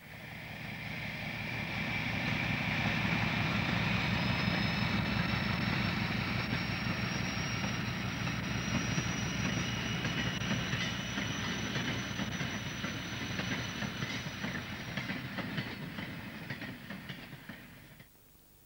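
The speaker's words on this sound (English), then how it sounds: "The train of coal has just run through the exchange sidings and will unload at the discharge bunker." A coal train rolls through exchange sidings at a colliery line, a sustained rumble of wagons with rhythmic clatter and a long high wheel squeal, swelling in and fading near the end, with no voices.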